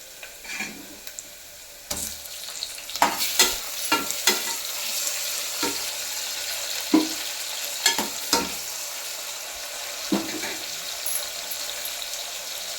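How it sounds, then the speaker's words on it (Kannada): Chopped tomatoes hit roasting onions in a pan while sambar is being made, a steady sizzle broken by repeated scraping stirs and clattering spoon knocks, close and busy throughout. "ಈರುಳ್ಳಿ ರೋಸ್ಟ್ ಆದ್ಮೇಲೆ ಟೊಮೊಟೊ ಹಾಕ್ಕೋತಾ ಇದ್ದೀನಿ."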